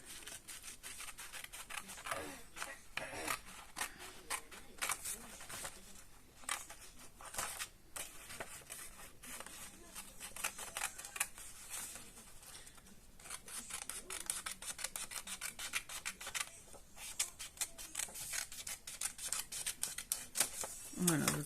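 Paper being cut with scissors into a large square of four smaller squares for a box craft, giving repeated short snipping and rubbing sounds close by, with faint background noise throughout.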